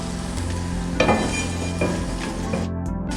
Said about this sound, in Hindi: इसको इस फ्राइंग पैन में डाल के इस गरम मसाले को भून लूँगी